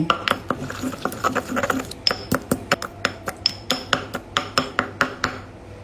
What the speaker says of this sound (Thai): ตำให้เข้ากับกระเทียมหอมแดง